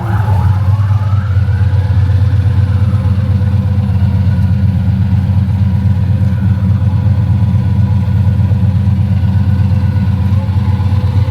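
A muscle car's engine idles loud and close with a heavy, steady low rumble, and a brief rev rises and falls near the start. No voices are heard.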